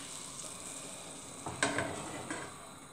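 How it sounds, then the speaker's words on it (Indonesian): Banana pastry (pisang bolen) frying in a pan, a soft steady sizzle with a brief clatter of utensils against the pan partway through. "Dan saya mau goreng seperti ini ya."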